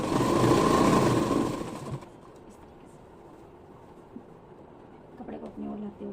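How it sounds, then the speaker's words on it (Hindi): A sewing machine running steadily up close for about two seconds while stitching a belt onto a salwar, then stopping to a quiet room with faint rustles and a brief voice near the end. "यहाँ पे इसको हम इस तरीके से ही सिल देंगे"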